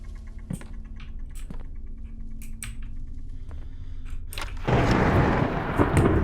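Thunderstorm in the horror video game MADiSON: faint crackles and distant rumbles over a steady low hum, then a sudden swell of loud, dense rain and thunder roaring in near the end.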